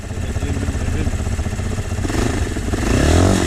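A motorcycle engine runs up close and loud, a rough, throbbing clatter that swells into a stronger rev toward the end.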